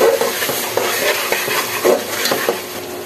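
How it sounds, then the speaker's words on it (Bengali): Ground coriander, cumin powder and salt are sautéed and stirred vigorously in a pan for bhuna khichuri, giving a loud, close sizzle with continuous scraping and occasional utensil clinks. "এবার ভালো করে মশলা কষিয়ে নেব।"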